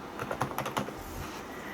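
Quick keystrokes tap out a word on a computer keyboard, a short burst of close, crisp clicks in a quiet room.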